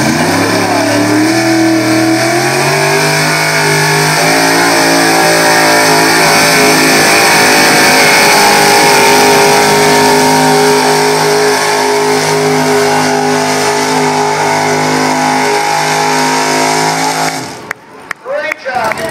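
Super Stock 4x4 truck at a county fair pull, hauling a 6000-pound sled: a loud, sustained engine roar with rising revs that holds steady for most of the run, then cuts off abruptly near the end.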